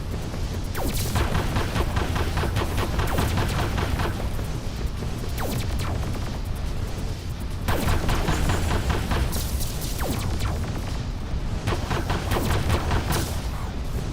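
Dense, continuous gunfire and explosions fill a fight against a mini-boss in the video game Starward Rogue, a loud, unbroken barrage of rapid shots and booms with no pauses.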